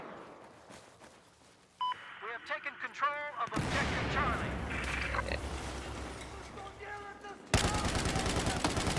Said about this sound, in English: we're testing out a new LMG